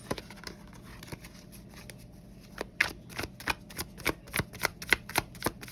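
Tarot cards being shuffled by hand for a pick-a-card reading. A quiet, steady riffle starts the run, then a string of crisp, rhythmic snaps and slaps follows as the deck is cut and shuffled. The sound is close, and nobody speaks.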